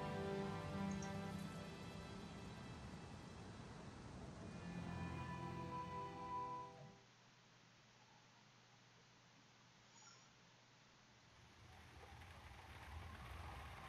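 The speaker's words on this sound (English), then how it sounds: "I made it just before the rain" Rain falling in The Lion's Song video game, a steady patter of drops alongside soft tonal music that cuts out midway, leaving quieter rainfall that swells slightly again toward the end.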